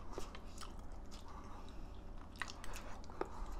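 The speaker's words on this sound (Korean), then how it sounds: "감자부터 먹어봐야지" Close, soft chewing of braised potato from a spicy braised pomfret and radish dish, with a few small wet bites and squishes over a low steady background and no talking.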